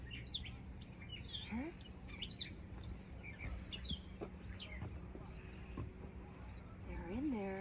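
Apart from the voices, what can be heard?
birds chirping in bamboo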